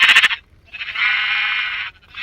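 Two sheep bleats in Drongo Craft, a Minecraft-style game: a short trembling bleat opens, then after a pause a longer, steady bleat holds for about a second, with the start of another at the end.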